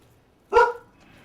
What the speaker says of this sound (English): there's dog barking happening